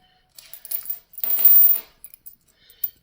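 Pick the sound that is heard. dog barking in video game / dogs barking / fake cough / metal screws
metal screws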